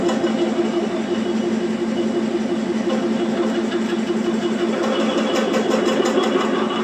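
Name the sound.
lathe parting tool machining model traction engine crankshaft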